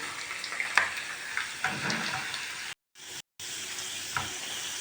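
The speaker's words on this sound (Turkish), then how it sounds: "İkinci tavada patateslerim kızardı gibi bir şey." Potatoes frying in a pan of oil, a faint close sizzle and crackle with small pops and stirring, broken by two brief silent gaps.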